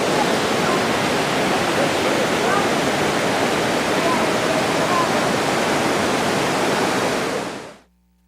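Steady, loud roar of a waterfall in the Watkins Glen gorge, a dense continuous rush of falling water that holds even throughout before cutting off abruptly at the end.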